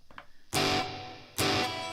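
Clean crunch guitar tone through a LEKATO PA1 pocket amp with no modulation, delay or reverb: two loud strummed chords, each ringing out briefly, close and alone.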